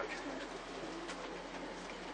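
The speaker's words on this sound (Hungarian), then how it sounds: "ezek jó galambok azok" Pigeons coo steadily close by over a dense bed of bird noise and rustling, a soft continuous murmur with no gaps across the short stretch.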